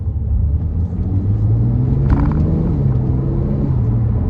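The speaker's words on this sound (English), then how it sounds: "You just hear all that injection noise, naturally aspirated, you know." A 2009 Porsche Boxster S 3.4 with a naturally aspirated engine gives a steady, close, low rumble with a faint mechanical ticking over it, and the pitch climbs slightly through the middle.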